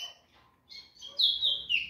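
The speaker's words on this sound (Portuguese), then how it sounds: "E esse passarinho, família, tá cantando muito assim, ó." Rufous-collared sparrow (tico-tico) kept in a cage, singing close by in short, bright high chirps and trills that grow louder toward the end, with no talk over it.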